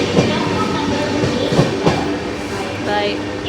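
A train bound for Trivandrum from Kochi rumbles loudly and steadily close by, with rhythmic wheel clatter and a few faint tonal squeals over the continuous rolling noise.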